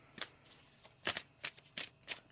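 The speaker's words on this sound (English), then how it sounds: "One more shuffle." A deck of tarot cards being shuffled by hand, with five or six crisp riffling bursts spaced irregularly, close and clear, with no voices.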